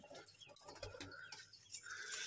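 Pigeons in a rooftop coop, soft close cooing and fluttering calls with short bursts of movement, fairly faint and without talk.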